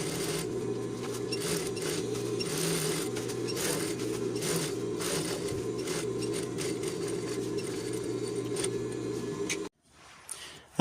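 A sewing machine stitches along the open part of a rain jacket hood seam, a steady close mechanical whirr with rapid needle clatter running unbroken for about ten seconds, then cutting out abruptly.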